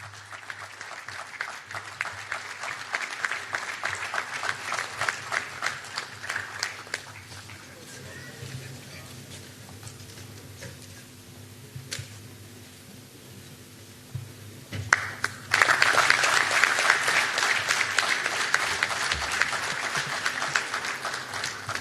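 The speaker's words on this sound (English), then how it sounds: "A big round of applause to Lasan Disa." Audience applause at a seafarers' gathering in Goa, a steady patter of clapping from the crowd that dips in the middle, then surges louder and denser toward the end.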